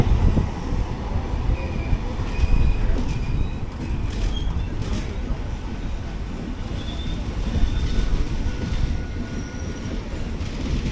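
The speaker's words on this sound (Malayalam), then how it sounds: "എറണാകുളം ടാറ്റാനഗർ എക്സ്പ്രസ് തന്നെ." The Ernakulam–Tatanagar Express, hauled by a WAP-7 electric locomotive, rumbles along the rails with a constant low roar, rhythmic wheel clatter and occasional faint squeals, heard close from on board.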